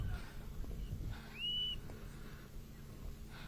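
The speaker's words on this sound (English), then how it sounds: "And, another whistle here, Dale." A single sharp, rising umpire's whistle blast at a polo final cuts briefly through a steady crowd and field rumble, moderately loud and fairly close.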